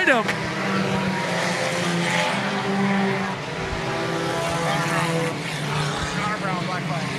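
A pack of sport compact and modified race cars roars around a raceway track, with engines whining up and down as cars pass, steady and loud, while an announcer speaks over the noise.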